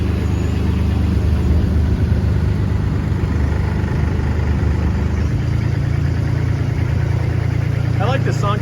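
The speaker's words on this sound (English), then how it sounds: "I like the longtail though. It's not as loud and obnoxious as those that you see in Bangkok with the big Toyota motors." A longtail boat engine chugs steadily on a rural canal in Thailand, a continuous low droning hum that holds through the whole stretch without a break.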